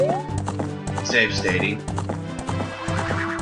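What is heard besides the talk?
Epona the horse neighing and trotting, from video game Ocarina of Time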